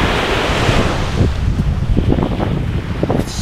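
Waves and strong wind at the shore of the Arabian Gulf off an island, a steady loud surf wash with gusty wind buffeting the microphone throughout, no voices.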